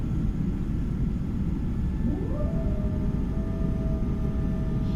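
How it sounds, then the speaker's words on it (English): Boeing 777 wing flaps extending inside Microsoft Flight Simulator 2024, a rising mechanical whine that sweeps up and settles into a steady tone over a constant loud engine and cabin rumble, with no talking. "I do like the sounds of the flaps."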